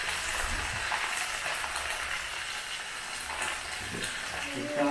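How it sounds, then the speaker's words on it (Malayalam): Dragon chicken pieces frying in hot oil, a steady bright sizzle and crackle throughout, close and moderately quiet, with a faint bit of kitchen noise near the end. "ഡ്രാഗൺ ചിക്കൻ വറുത്തെടുക്കണം"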